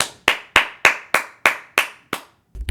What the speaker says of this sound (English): So let's give him a clap.